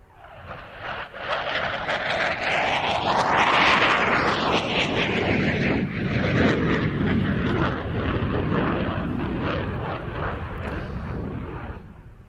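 A CF-188 Hornet fighter jet performing a display flight roars loudly and continuously, its engine noise sweeping past with a rising-then-falling Doppler pass before a sustained, slowly fading rumble.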